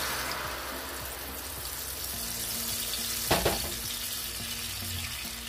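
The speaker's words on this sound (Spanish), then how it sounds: "vamos a agregarle un poquito de aceite para freír nuestro adobo" Adobo chili sauce sizzling in hot oil in a pan: a soft, continuous frying crackle, with a brief louder spatter of stirring or movement about halfway through and no one speaking.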